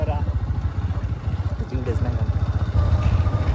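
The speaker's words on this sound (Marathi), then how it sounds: "तो आम्ही थोडा ॲडव्हेंचरस बाईक करतोय. थोडं ट्रिकी आहे." A motorcycle rides an adventurous, tricky riverbed trail near a dam, its engine thumping in a rapid steady pulse close by while people talk over it.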